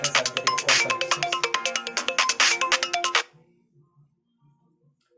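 Mobile phone ringtone going off during a physics lecture, a loud rhythmic melodic ring repeating for about three seconds before cutting off into near silence.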